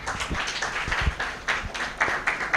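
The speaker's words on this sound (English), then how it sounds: "We need good applause." Audience applause at a debate on sustainable tourism, rising in scattered bursts of clapping from a moderately distant crowd with no one speaking over it.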